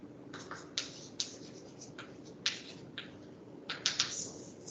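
Quiet, irregular taps and short scratchy strokes of a lecturer writing on a board, a dozen or so marks spread across a few seconds against a faint room hum.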